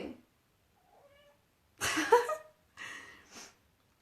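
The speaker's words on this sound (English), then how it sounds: "My cat just is going crazy right now." A cat meows agitatedly in a few separate calls: a faint short cry first, then two louder, longer, strained meows close by, with no talk over them.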